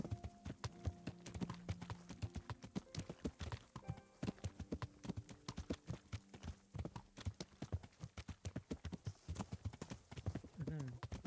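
Horse hooves clip-clopping at a steady rhythmic gait while riding in the video game Kingdom Come: Deliverance, close and fairly loud, with occasional game tones and a voice talking over the hoofbeats.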